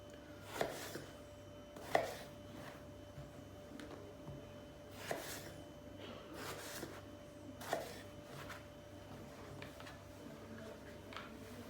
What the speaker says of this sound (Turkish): Patlıcanları doğrarken elma dilimi doğrayacağız.